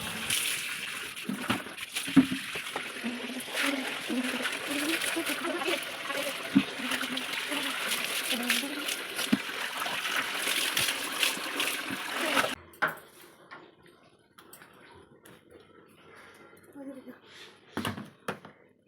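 Clothes being washed by hand in water at a rural home, with steady splashing and sloshing for about twelve seconds, then quieter scattered drips and splashes; someone talks over the washing.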